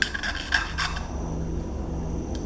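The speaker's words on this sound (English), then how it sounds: "Now I'm polishing it up and you can see there's like scale on it." Scale is polished off a needle gun in short, repeated rubbing and rasping strokes, close and fairly quiet, clustered at first and then fading into a soft background hum.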